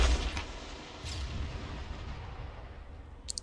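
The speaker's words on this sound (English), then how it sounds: "Aim at the side of the vehicle. Rocket out." An anti-tank rocket launcher fires at the side of a vehicle: a sharp, heavy blast at the start, a second booming burst about a second later, then a long rumbling tail and a brief crack near the end.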